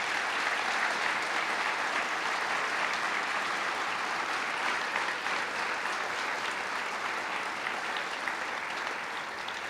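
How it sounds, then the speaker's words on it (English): Sustained applause from the audience at a 2017 police awards ceremony for award recipients, dense, even clapping filling the room for nearly ten seconds, tapering slightly at the end, with no speech over it. "let's give all these award recipients one final round of applause"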